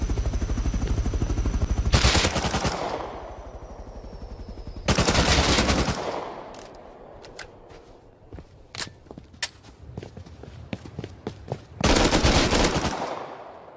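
Loud automatic AK rifle bursts in Rust: three long sustained strings of rapid fire, separated by quieter gaps filled with scattered single shots and footsteps, the last burst as heavy as the first.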